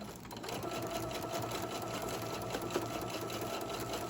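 Sewing machine stitching fabric for an easy-grip jar opener, a steady fast mechanical whir held at an even pace, fairly quiet and close, with no talking.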